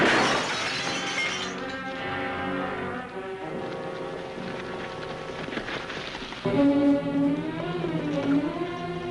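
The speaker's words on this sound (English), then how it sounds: "just fine glass when he shot the lamp" A glass lamp shatters after being shot, a loud crash of breaking glass with lingering tinkling debris over a tense dramatic music bed, from an old Christmas Western TV adventure.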